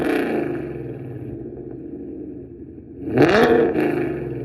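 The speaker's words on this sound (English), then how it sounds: "let me throw in some rev clips real quick for you" A 2021 Mustang GT with a Borla S-Type catback exhaust idles with a deep burble, then blips sharply into a loud rev that rises and falls back, heard close and alone.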